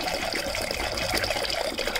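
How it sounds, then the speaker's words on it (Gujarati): Water pours steadily onto dried white peas for ragda, a continuous close splashing and trickling with no one talking. "હવે આપણે પાણી એડ કરીશું।"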